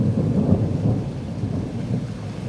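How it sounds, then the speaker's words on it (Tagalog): Strong thunder rolls through steady rain by the sea in Croatia, a loud, continuous low rumble that fills the whole moment with no voices. "Lakas ng kidlat."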